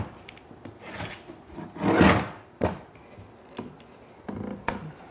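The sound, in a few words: tightening a clamp on wood lumber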